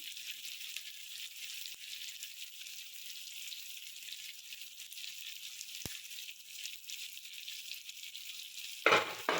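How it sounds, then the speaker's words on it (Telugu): Ginger chilli paste frying in oil in a pan for chicken curry, a steady close hiss of sizzling with a faint rattle near the end. "అల్లం చిల్లిపాయ పేస్ట్ వేస్తున్నాం."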